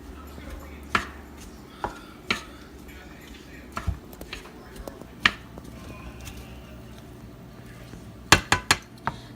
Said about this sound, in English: we are going to stir it until all the flavors meld together